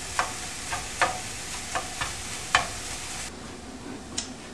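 Ground turkey chopped up in a pan with a utensil, a series of sharp scraping taps over a soft, steady sizzle, close and fairly quiet.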